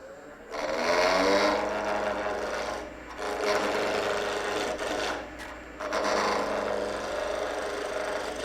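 Skew chisel cutting clean shavings from wood spinning on a lathe, a steady loud rasping hiss in several sustained passes with brief dips between them.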